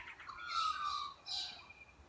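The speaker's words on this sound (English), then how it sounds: "Actually, there's quite a few birds if you stop to listen." Birds call faintly outdoors in Australia, a couple of drawn-out squawking cries against quiet background, without talking.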